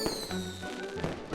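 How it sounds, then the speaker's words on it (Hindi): Cartoon fireworks bursting in a short burst of crackling pops with whistling tones, loud and close, with no talking. "उन रंगीन पटाखों को देखो।"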